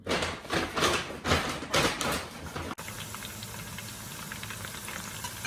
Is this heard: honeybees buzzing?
no